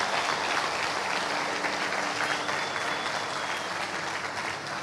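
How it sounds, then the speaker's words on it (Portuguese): Congregation applause at a church service, a dense, steady roar of many hands clapping that fills the whole stretch without a break, with no talking over it. "dê uma salva de palmas a Jesus"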